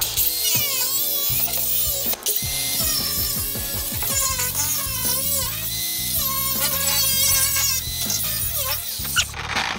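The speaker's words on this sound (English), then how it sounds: "I'm just going to take the sawzall and get to it." A reciprocating saw cuts through the floor pan of a VW Beetle with the body still on, giving a loud, close, continuous buzzing rasp with shifting pitch and brief pauses, with no talk.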